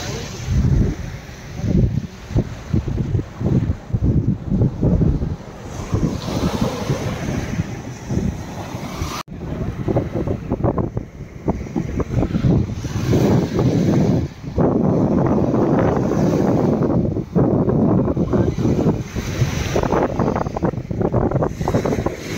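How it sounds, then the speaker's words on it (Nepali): Strong wind gusts roar across the microphone at the seashore, with waves and surf in the background; the blustery noise is loud and continuous, with some talk underneath. "डह्रो हावा चल्दो रहेछ यहाँ चाहिँ"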